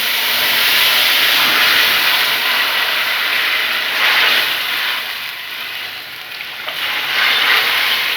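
Tomato juice poured into hot oil tempered with burnt mustard seeds and a dried red chilli, a loud, steady hissing sizzle that eases briefly and then surges again.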